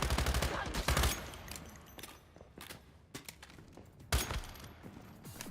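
Gunfire bursts in the survival shooter Once Human during a fight with Vulture faction enemies: loud rapid volleys in the opening second, then scattered single shots and a sharp blast near the end, with quieter gaps between.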